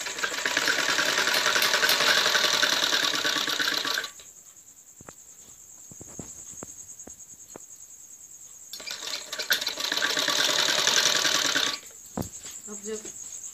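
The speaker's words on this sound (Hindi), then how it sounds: "ये सिलाई बिल्कुल ऐसे निशान करिए करके सिलाई देनी होती है पट्टी को" A sewing machine runs in two bursts while stitching a fabric strip onto a kurti neckline. Each burst is a steady, close mechanical whir lasting a few seconds, with a quieter stretch of handling noise between them.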